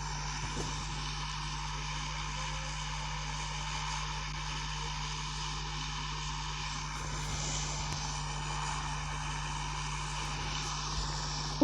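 Propeller airplane droning steadily in a battle royale video game, a continuous hum with a constant low tone held throughout and no talking.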